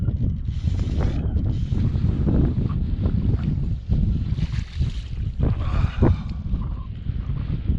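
Strong wind gusting over open water from a fishing boat, a loud rumbling roar with buffeting against the microphone and occasional knocks.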